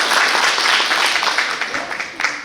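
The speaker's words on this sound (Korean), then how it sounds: "박수 한번 쳐드릴게요." A crowd applauds at a Korean Buddhist Dharma talk with dense, steady clapping that gradually thins toward the end.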